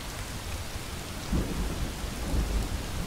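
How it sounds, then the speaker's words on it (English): Steady video game rain hisses while a soft, low rumble of distant thunder rolls in midway and lingers. "The thunder doesn't seem too angry this time."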